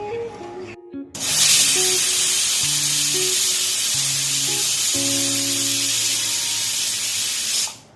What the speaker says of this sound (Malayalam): വിസിലൊന്ന് നമുക്ക് നിർത്താം. സ്റ്റീം പോട്ടെ